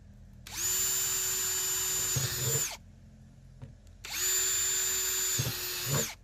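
A power drill whines steadily through a plastic 5-gallon food-grade bucket in two long bursts, each ending with a grinding crunch as the bit breaks through.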